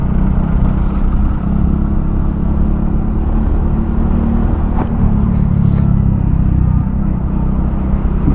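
An AFAZ Kenchana Sport 115 motorcycle engine drones loudly and steadily up close, a continuous low rumble with slight swells in pitch and no voices.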